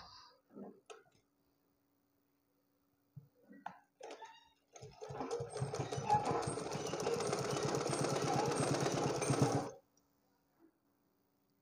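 A sewing machine stitches a blouse in a quick, steady run of rapid mechanical clatter lasting about five seconds, preceded by a few faint taps and handling sounds in a quiet room.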